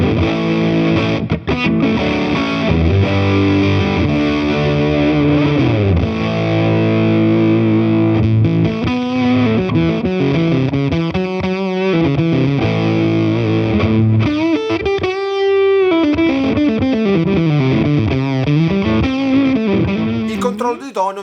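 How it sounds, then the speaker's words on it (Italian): Heavily distorted electric guitar played through an Origin Effects Deluxe55 pedal, a thick compressed fuzz-like tone with sustained chords and melodic bends, loud and continuous for about twenty seconds with no voice over it. "i suoni molto distorti suoneranno più compressi, grossi, simili ad un fuzz"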